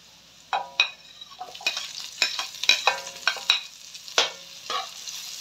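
Onions fry and get stirred in a pan for dinuguan, with repeated scraping strokes and bursts of sizzle in an uneven rhythm, close and clear, no voices.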